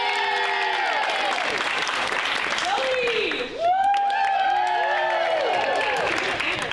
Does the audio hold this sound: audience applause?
yes